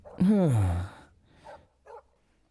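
A dog gives one loud drawn-out bark, followed by two shorter, fainter yips, in an indoor movie scene.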